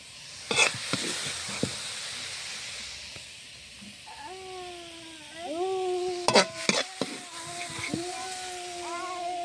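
Pea greens fry in a pan with a faint hiss as a spatula clacks and stirs through them, first alone, then beneath a voice speaking in the second half.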